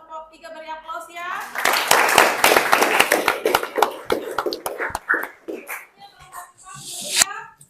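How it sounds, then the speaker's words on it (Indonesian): Students in a vocational high school classroom clap for a presenting group, a short burst of quick, uneven hand claps that swells and then thins out, with voices talking before and after it. "Terima kasih untuk kelompok 3, beri aplaus ya."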